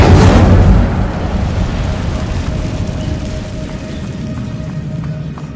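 Incendio fire spell cast in a video game: a loud whooshing burst at the start, then a sustained roaring, crackling rush of flame that slowly thins out, alone with no talk.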